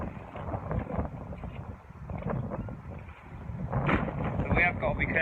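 Strong gusty wind roars and buffets the microphone outdoors in sunny, windy Wokingham, rumbling and swelling heavily throughout and louder toward the end, with a voice partly buried under the blasts.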